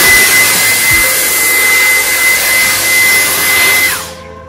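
A cordless vacuum cleaner runs loud and steady with a high whine while cleaning stairs, then winds down sharply as it switches off at the end.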